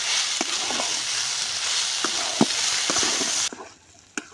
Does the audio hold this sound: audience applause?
no